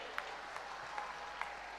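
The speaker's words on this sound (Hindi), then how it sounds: "300 तालियां बजनी चाहिए इनके लिए।" An audience applauds steadily at an honour ceremony for Tokyo Olympic athletes, a sustained wash of clapping with no voices over it.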